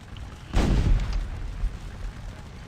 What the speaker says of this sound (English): They've, you know, been under about 10 minutes of sustained canister fire now